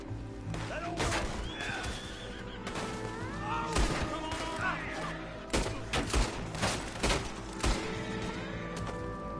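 Gunfire in the Red Dead Redemption 2 video game: several sharp shots ring out at irregular intervals over a busy scene of horses whinnying and hooves, with some game dialogue and ambient noise between them.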